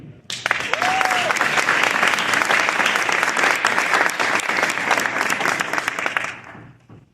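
A crowd at a community gathering gives Melissa a full, sustained round of applause that swells quickly, holds steady for several seconds, then tapers off at the end.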